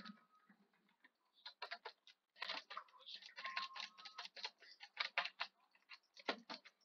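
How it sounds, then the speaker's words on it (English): A computer keyboard is typed on in quick, irregular clusters of clicking keystrokes, close but quiet, with brief pauses between flurries during gameplay. "Guys probably hear my keyboard"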